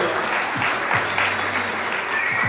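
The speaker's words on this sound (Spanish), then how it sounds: "Un fuerte aplauso también que hay gente acá que nos está ayudando" Steady audience applause fills a theater at a freestyle rap battle in the Artesano cultural center in Peñarol, a dense, loud wash of clapping lasting the whole stretch.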